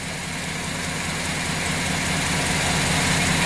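A Chevrolet Silverado pickup engine idles steadily after first start, a low continuous rumble with an even mechanical hum, close by and unchanging throughout.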